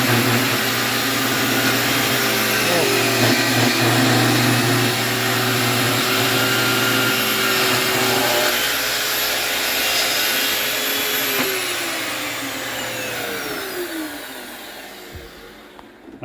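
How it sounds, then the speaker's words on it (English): A shop vacuum collecting sawdust while countertops are cut for a bus conversion whines loudly and steadily up close, then its motor winds down and fades toward the end. "And we got the vacuum going to clean,"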